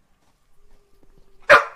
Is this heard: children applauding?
no